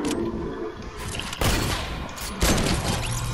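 Submachine gun fire in Fortnite: dense, rattling automatic bursts, with two sharper, louder volleys about a second apart, heard close over steady game noise and no talk.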